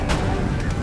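A musket line volley in the Empire: Total War game, a muffled battle rumble followed near the end by a sudden loud crack of massed firing.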